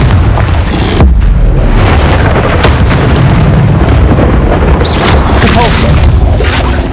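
Confringo fire-blast spell explosions in the video game Hogwarts Legacy, loud dense booms and bursts that run nonstop with chaotic combat noise and a voice calling spells over the din.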